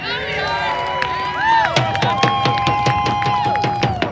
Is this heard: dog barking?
no